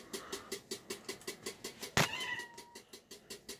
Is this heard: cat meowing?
yes